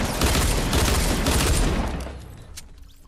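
Pistol gunfire in the Fortnite video game, a dense rapid burst of shots over roughly two seconds, loud and close, then tapering into quieter game ambience.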